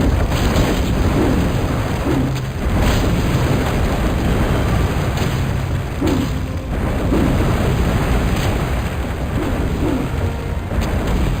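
Fire spouts erupt in the strategy game Total Annihilation: Kingdoms, giving repeated booming, crackling bursts every couple of seconds over a steady loud rumble of game ambience.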